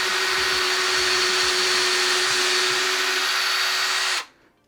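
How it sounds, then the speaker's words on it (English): A drill runs vertically through a block of wood with a loud, even, high whine that holds steady for about four seconds and then stops suddenly, leaving near silence. "we wanna drill all the way through this block of wood"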